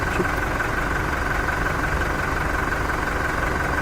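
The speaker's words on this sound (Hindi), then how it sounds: "मेरी यहाँ से खिड़कियां हिल रही हैं।" Windows rattling and vibrating indoors, a steady loud rumbling buzz with constant low shaking that holds evenly throughout, no voices.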